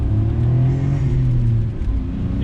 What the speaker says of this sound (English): You can probably hear that turbo.